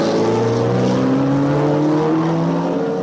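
Formula One race cars at the 1957 British Grand Prix, including Vanwall, Maserati and Ferrari machines, roar past loudly with a steady high engine drone whose pitch slides upward and shifts as cars go by, with no talk over it.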